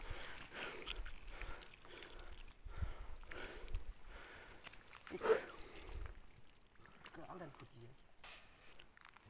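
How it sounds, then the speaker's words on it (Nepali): Steady trickle and splash of water running from a pipe in a cold, snowy place, fairly faint, with people talking over it and outdoor noise around. "ए पानी त आइरहेको रहेछ"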